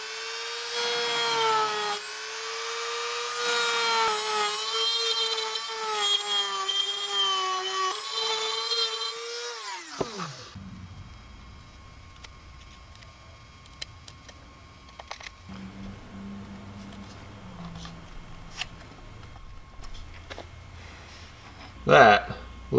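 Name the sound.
Dremel burr bit gouging a slot in a lure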